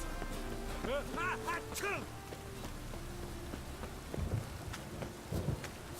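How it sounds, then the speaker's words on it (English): Rain falls steadily through a stormy scene, with low rumbles of thunder in the background under talking voices and other sound effects. "Rain was coming."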